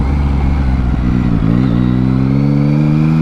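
Yamaha MT-09 motorcycle engine idling and blipping close by, a loud rumbling three-cylinder burble with a couple of quick throttle rises and falls before settling into a steady idle.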